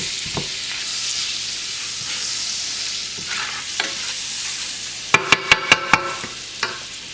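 A pan of chicken marsala being scrubbed and stirred over medium heat: a low sizzle with scraping strokes, then a quick burst of five sharp metallic knocks near the end, no talking.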